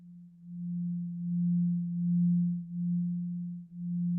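A steady low sine tone from an Ableton synth with Unison in Random Notes mode, holding one pitch with a gently swelling and dipping level, clean and alone.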